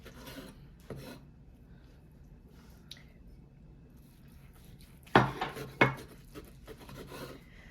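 A knife slices into a sous vide tomahawk steak cooked medium rare, giving a few close, wet squishing and rasping cuts in quick succession over a quiet background.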